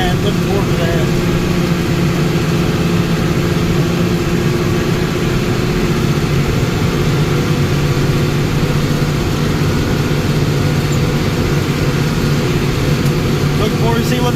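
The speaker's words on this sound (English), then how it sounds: "It is kind of a loud tractor still." An old farm tractor's engine drones steadily from inside the cab during a season's first mowing, a loud, constant low rumble with no pauses, and a voice talks over it throughout.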